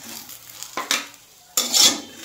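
A metal spatula scrapes and lifts fried eggplant from an oily pan, two distinct scraping strokes with light sizzle between them, close and clear.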